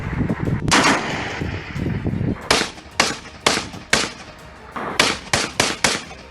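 Gunfire exchanged between army posts on the Line of Control between India and Pakistan: a long run of sharp, loud cracks, some in quick clusters, over a rumbling background.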